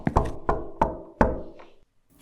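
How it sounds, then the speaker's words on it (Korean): Five firm knocks on a front door at night in an uneven rhythm, close and loud, with rain outside, followed by silence and then a faint bump at the end. "현관에서 들려오는 노크 소리"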